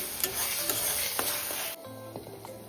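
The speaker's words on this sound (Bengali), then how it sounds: "পেঁয়াজ, রসুন, শুকনো লঙ্কা, টমেটো সবের একটা পেস্ট বানিয়ে ওটা কষাতে দিয়েছি" A paste of onion, garlic, dried red chili and tomato sautéing in a home kitchen pan, a bright close sizzle with light stirring ticks that drops to a quieter simmer partway through.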